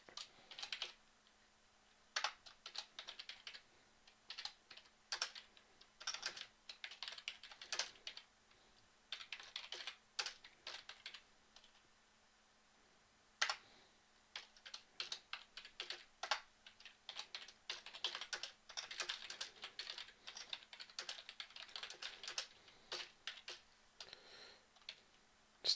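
Quiet, irregular clicking of fingers typing on a computer keyboard, in bursts of rapid keystrokes with short pauses, close and alone without speech.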